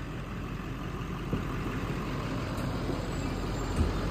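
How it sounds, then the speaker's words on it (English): A 2006 GMC Savana school bus with a Thomas bus body and a diesel engine idles, giving a steady low rumble that holds throughout with no talking. "Has a Dermanax diesel engine in it."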